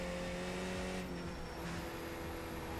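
A Spec Racer in the iRacing simulator drones along with a low, steady engine tone, faint and even, with a slight shift in pitch partway through and no voices.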